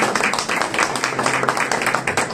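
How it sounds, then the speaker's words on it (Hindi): A congregation at a Hindi-Urdu Christian sermon breaks into steady, dense clapping, an even rattle of many hands held for a couple of seconds. "जोरदार तालियां डालता हूं"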